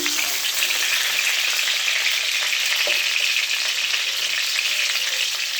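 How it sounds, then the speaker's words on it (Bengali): Pointed gourd (potol) fries in hot oil, giving a loud, even, close sizzle that hisses without letup, with only a faint stir or two underneath. "তেল গরম হয়ে গেছে, পটলগুলো সব দিয়ে দিয়েছি। এখন ভেজে নিই।"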